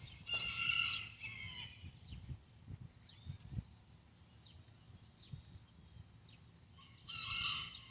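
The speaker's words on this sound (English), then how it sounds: "neighbor's rooster is just screaming its fool head off" A neighbor's rooster crows loudly outdoors on a breezy, sunny day, one strained call at the start and another near the end, with faint bird chirps and wind rumble between.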